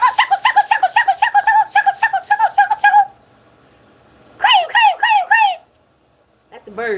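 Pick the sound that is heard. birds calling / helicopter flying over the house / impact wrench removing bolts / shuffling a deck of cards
birds calling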